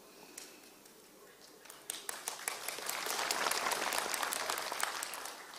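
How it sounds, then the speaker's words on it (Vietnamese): An audience applauds at the final of a vọng cổ singing competition, with scattered claps that build into steady, full clapping from the crowd. "con nghe tiếng vỗ tay của khán giả"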